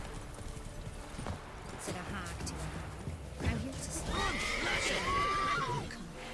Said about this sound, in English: Stop neighing at every little thing.